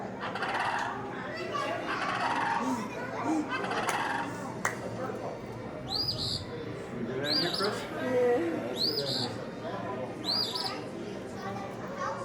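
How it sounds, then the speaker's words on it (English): A push-button animal sound display plays an owl call, repeated hooting calls close by in the second half, while people talk and other recorded bird sounds play beforehand. "There's the owl."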